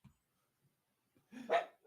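A single dog bark rings out close by, a short loud yelp preceded by brief faint rustles, in a quiet room.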